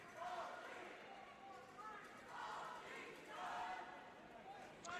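A crowd at a roller derby game cheers in waves, swelling and fading twice over a few seconds, fairly faint and distant, with a commentator's voice talking over it.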